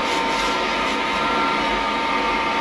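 A wire brush scrubs steadily over welds on a car's rear end, a continuous harsh, hissing scrape that stays close and fairly even throughout, with no talking.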